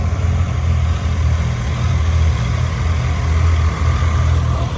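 A Triumph Trident 660 triple-cylinder motorcycle with a 3-into-1 underslung exhaust idles close by, a steady low rumbling drone throughout with no talk.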